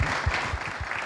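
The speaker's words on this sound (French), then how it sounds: "Et si on l'applaudissait pour ce nouveau slogan ?" An award ceremony audience gives a short burst of applause, a steady wash of many hands clapping at moderate level for about a second.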